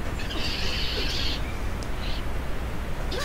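Birds in a video game: a few bright, sustained chirping calls over a dense, noisy game background, moderately loud, with short repeated bursts and no talk over them.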